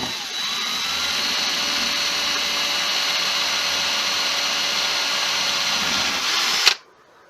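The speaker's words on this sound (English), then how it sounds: "Next thing I'm going to drill a hole through the centre of this." A 2mm bit in an electric drill bores through a small block of wood, a steady high whine held close and loud for nearly seven seconds before cutting off abruptly.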